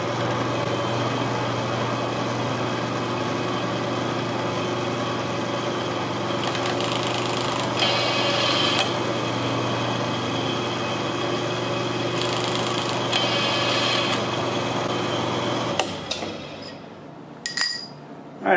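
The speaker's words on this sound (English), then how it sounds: "It just taps so fast, it doesn't even seem like it's tapping all the way" Tapmatic tapping head cutting threads into holes in knife handle slabs runs as a steady machine hum with a constant tonal drone, brief higher bursts of cutting partway through, then stopping near the end with a few clinks.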